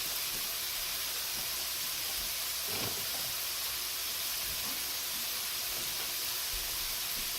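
Vegetables for a clean-eating sloppy joe sizzle steadily in a pan with a constant, close, even hiss and a few faint pops, and no voices are heard.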